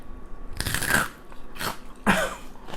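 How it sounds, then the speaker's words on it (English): Crispy fried pork skin of lechon kawali crackles loudly in three close, dry crunching bites in quick succession, with no talking. "you hear that? That's how crispy that skin is."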